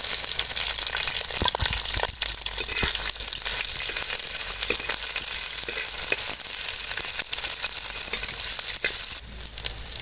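Steady, loud sizzling of onions frying in a hot pan, continuous hiss with occasional crackles and stirring clicks, no talking.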